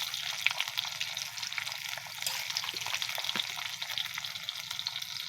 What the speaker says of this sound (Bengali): তেলটা আমার গরম হয়ে গেছে। এবার আমি মাছগুলো দিয়ে দেব।